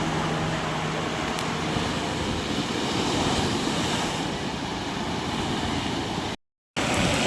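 Ocean surf breaking on Vizag beach gives a steady, loud roar mixed with wind buffeting the microphone, continuous for several seconds before a brief dropout near the end.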